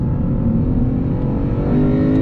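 A 2021 Lexus RC F Fuji Speedway Edition V8 engine roars loud and close on the Fuji Speedway circuit, a sustained deep revving drone that climbs slightly in pitch, with no talk over it.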